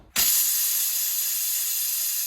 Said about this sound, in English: When it reaches pressure, it will release and it will be done.